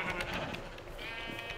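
Sheep bleating in a video game, a few short quiet bleats close together over faint background sound.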